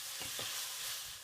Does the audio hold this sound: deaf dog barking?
no